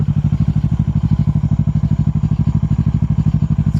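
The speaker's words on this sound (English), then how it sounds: "Alright, here is the bike on the road." Kawasaki Vulcan 650 motorcycle riding on a road at night: a loud, close, rapid rhythmic engine thump pulsing evenly throughout.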